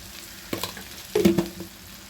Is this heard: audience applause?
no